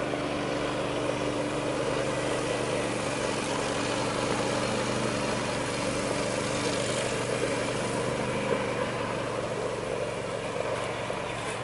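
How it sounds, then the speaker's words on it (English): A Thai traditional long-tail boat motor runs steadily throughout, a continuous, loud, rumbling engine drone with an even texture and no talking. "That's a Thai traditional boat and motor."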